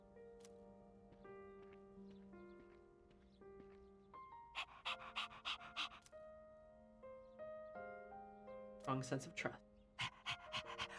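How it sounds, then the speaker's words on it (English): A dog in the video game Persona 3 Reload pants in quick rhythmic bursts over soft game music, with a spoken voice line in the scene. "I love having a doggy."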